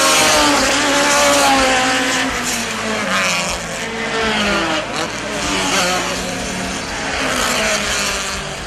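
Group 2 race cars at the start of a circuit race at Dover, Jamaica, with an 18-car field roaring down the front straight: a loud, dense, continuous engine roar with rising revs and overlapping cars.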